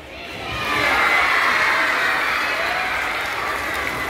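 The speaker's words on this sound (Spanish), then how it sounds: "Vamos a aplaudirles y a decirles ¡viva!" A crowd at a university literary event applauds steadily, with some cheering and shouts mixed in; the clapping swells quickly and holds loud and dense throughout.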